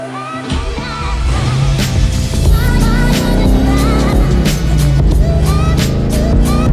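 Engine of a stage 3 tuned car running steadily and loudly close by, with uneven revving as the clutch is worked roughly, plus some skidding or squealing tones.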